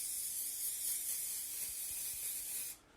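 Olive oil spray hissing continuously over a sheet of strudel pastry, a steady close spritz lasting a few seconds before it cuts off abruptly.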